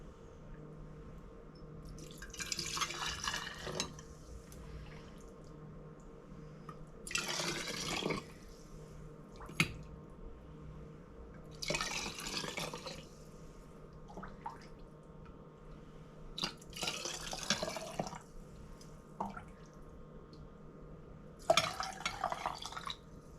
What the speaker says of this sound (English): I'm filling these jars.